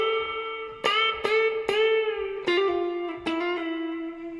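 Electric guitar played with the fingers and no pick, giving a series of soft plucked notes that bend upward in pitch and sustain with light effects and reverb; close and alone, with no talking.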